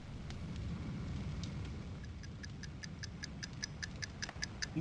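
A clock ticks steadily and faintly, in a regular rhythm of small sharp clicks over a low, rumbling room hum, with no voices.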